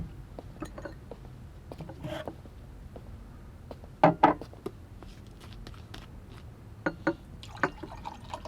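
Water poured into a glass late at night in a quiet home, heard as a few soft splashes and drips between long stretches of near silence.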